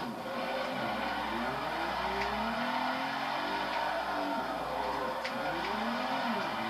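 A four-wheel-drive car drifts through corners in the video game Forza 4, its engine note rising and falling continuously while tires squeal and skid in long sweeps, loud and steady throughout with no talking.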